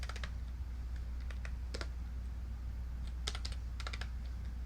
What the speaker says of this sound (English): then I type in region, and then I type in some code